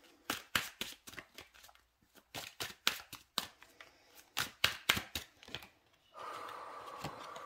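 Rapid bursts of tarot cards being riffled and slapped together in quick clusters, close and crisp, ending in a steady soft hiss.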